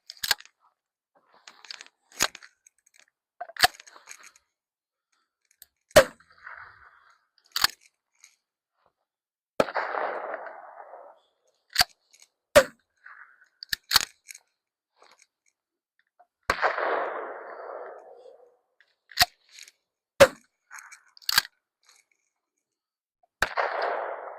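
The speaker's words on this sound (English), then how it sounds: "You can use this video to calculate how quick you can shoot using this grenade launcher." A TAGinn Kick Charge M203 airsoft grenade launcher fires repeatedly. Sharp, loud cracks come at irregular intervals, some followed by short hissing bursts of gas, with near silence between shots.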